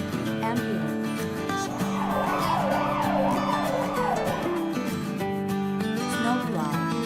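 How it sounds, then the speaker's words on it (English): An ambulance siren from a children's vehicle-sound game wails in a fast rising-and-falling pattern, loud and continuous over a steady music bed. "Ambulance."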